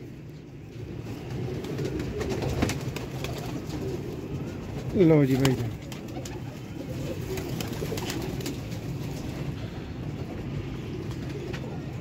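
Vashi pigeons coo among a set of pigeons kept for sale, a soft burst of cooing rising briefly over a steady low murmur of birds while someone talks.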